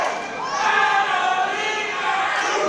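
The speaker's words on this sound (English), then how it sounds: "The crowd really getting behind Carolina Cruz." A wrestling crowd at a CCW Women's Title match in Hialeah, Florida roars and chants in a steady, dense wall of voices, cheering on Carolina Cruz throughout.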